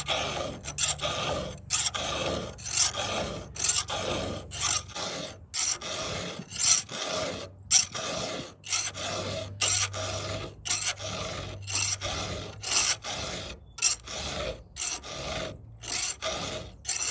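A chainsaw chain is sharpened by hand with a file, giving steady rhythmic rasping strokes, close and fairly loud, repeating evenly with brief gaps between strokes.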